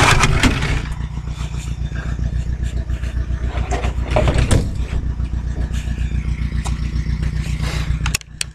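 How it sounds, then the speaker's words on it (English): A tractor engine idles near an olive harvest, a steady low rhythmic chugging that holds for most of the stretch and then cuts off abruptly at the end, with some clatter and a voice speaking over it. "Let that tractor run a bit, and then I'll turn it off"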